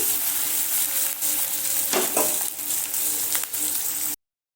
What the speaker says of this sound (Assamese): এতিয়া এইখিনি মই ধুনীয়াকৈ অকণমান লৰচৰ কৰি ভাজি লওঁ